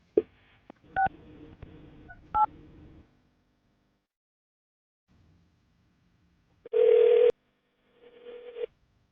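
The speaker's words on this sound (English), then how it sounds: "I'm gonna call her right now, see if we can get her on the phone" Touch-tone phone keys dial a number in a quick burst of beeps, followed by a single long ringback tone and the start of another, fairly loud and clear with no talking.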